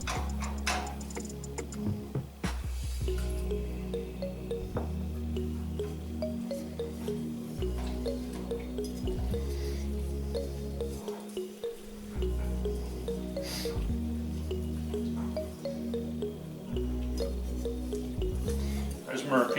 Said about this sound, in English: it's nice to have a pan that isn't square on the bottom so that the whisk can really get in the corners